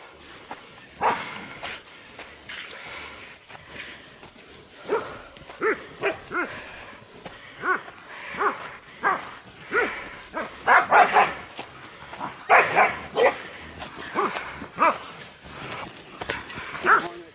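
Hunting dogs bark repeatedly at a wild boar cornered near the top of a hill, the sharp barks and yips coming in irregular bursts that grow busier toward the end, with some whimpering mixed in.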